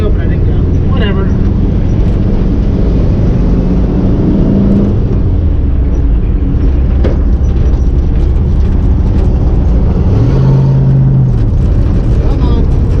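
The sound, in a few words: 1961 Volkswagen manual transmission car driving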